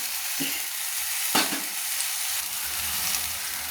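Poppy seed paste goes into a pan of frying rui fish, bringing a steady loud sizzle with a sharp splattering burst early on and some stirring scrapes, close up.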